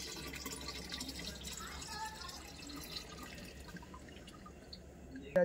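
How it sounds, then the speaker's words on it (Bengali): Pesticide liquid is poured into a drum outdoors, ready for spraying a jackfruit tree. A steady, faint trickle and drip sits under a broad background hiss with muffled voices, and a short clunk comes at the end. "এবারে ওষুধটা আমি ড্রামের মধ্যে ভর্তি করে দিলাম"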